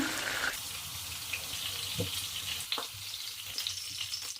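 Meat fries in a pan for verashchaka, a traditional Ukrainian dish, giving a soft, steady sizzle with a few light clicks and scrapes throughout, close and fairly quiet with no talk.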